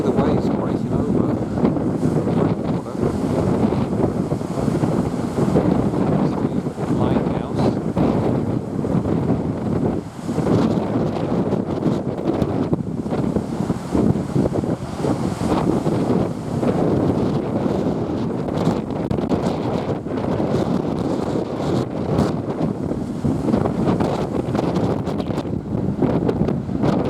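Strong wind buffeting the microphone at a harbour in Frankfort with waves breaking over, a loud constant roar and rumble of gusts and surf throughout, with no talk.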